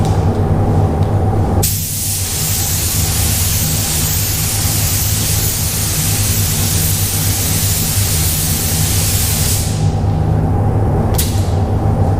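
A spray gun lays heavy clear coat over a pink flake-painted panel, giving a loud, continuous hiss that runs nearly the whole time, with brief pauses in the trigger at the start and near the end over a steady low compressor hum.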